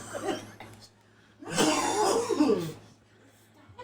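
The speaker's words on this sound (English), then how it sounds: "smoke inhalation cough right there" A man gives a harsh smoke-inhalation cough at a house fire, one rough, raspy burst standing out after brief faint murmuring.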